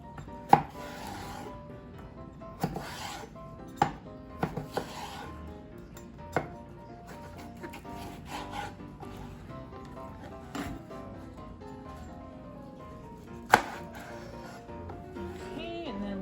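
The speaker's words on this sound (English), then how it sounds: "chop my cucumber in half and then just do like little strips" A knife chops a cucumber into strips on a cutting board, sharp taps spaced irregularly, close and fairly quiet, over a low steady background.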